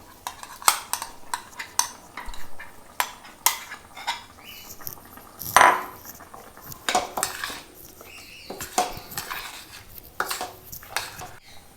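Roasted coconut paste is poured into a chicken curry and stirred, with a spoon repeatedly scraping and knocking against a metal pot in irregular clanks, one loud clatter midway, and a faint sizzle beneath, no talking.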